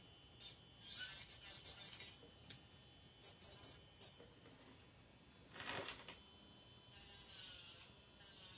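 A fine nail file scrapes acrylic nails in quick bursts of bright, hissy rasping, close and fairly quiet, with pauses and a soft knock between strokes.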